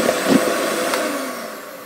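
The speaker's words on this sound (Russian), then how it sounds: "продолжаю взбивать." An electric mixer whisks egg whites with lemon juice in a bowl for an almond-nut cake, a steady close whirring drone with slight wobbles as the beaters move, running on alone without any talking.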